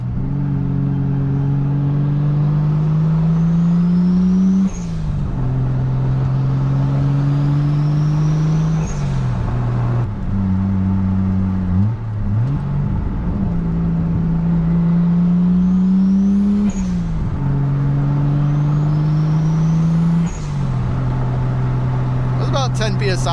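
A Toyota 7M Supra engine with a CT26 turbo pulls hard under boost, droning loud and steady, its pitch climbing through each gear and dipping briefly at every shift.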